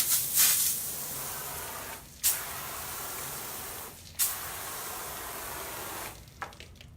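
Foam sprayer on a cleaning job, giving off a long steady hiss broken by three short clicks or bursts, fairly close and quiet, with no voices.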